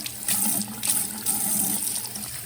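A container being rinsed under a running tap at a sink while hatching brine shrimp, a steady close splashing gush of water with surges as the container moves, no talk.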